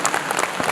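A short, steady burst of audience clapping at a Korean forum, fairly close and dense, with no voices over it.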